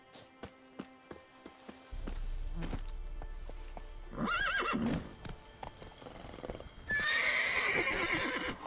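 Roach, the horse in The Witcher 3, clip-clops along in game with hoofbeats starting after a quiet opening, joined by a couple of snorts and whinnies toward the middle and end.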